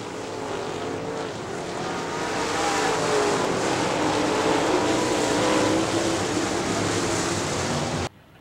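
Late model race cars at Crystal Motor Speedway roaring past in a dense, sustained engine drone that swells and holds loud for several seconds before cutting off abruptly, with no talk over it.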